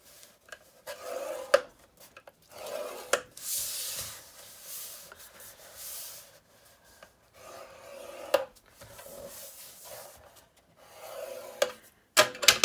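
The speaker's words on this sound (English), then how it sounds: "There we are, that's all the scoring done." Paper being scored for a large gift bag with Stampin' Up tools: close, soft scraping and rubbing strokes in uneven passes, with brief taps between them.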